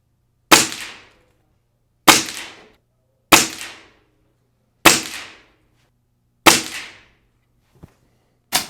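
Six sharp, loud cracks from an Umarex Emerge repeating magnum break-barrel air pistol fired at targets, spaced a second or two apart, each with a short fading ring, close and alone.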